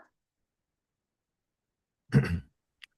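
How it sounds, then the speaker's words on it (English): One short, gruff throat clearing during a committee meeting, close and moderately loud after near silence, followed by a tiny click. "I just was clearing my throat"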